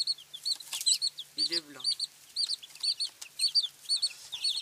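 Young chicks peeping in quick, repeated high chirps, fairly close and steady throughout, with a brief spoken voice in French partway through.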